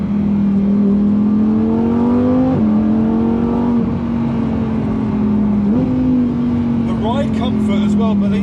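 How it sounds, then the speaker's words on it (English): Lamborghini supercar engine droning steadily at close range while driving, with pitch shifts as it changes gear and revs, and a continuous loud tone throughout. "the noise that you get from the car is unbelievable"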